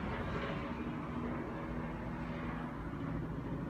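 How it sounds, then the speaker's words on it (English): A helicopter's low, steady engine rumble drones overhead, a constant throb filling the background without pause. "Let's wait till this helicopter goes by."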